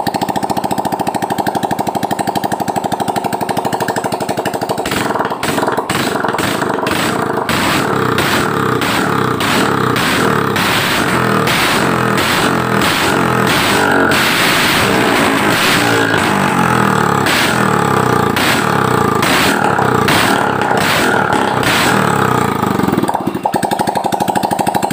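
A Yamaha Mio Soul GT scooter engine suffering lost compression is started and revved: a rapid mechanical chatter at close range swells through repeated throttle blips, then cuts off near the end, with no talking.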